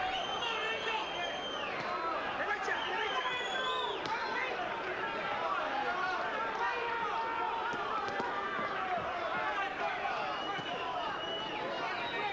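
A boxing crowd at the Ivan Robinson vs Angel Manfredy fight rises and roars for Manfredy, a dense, sustained wall of cheering and hubbub holding steady at a loud level for the whole stretch.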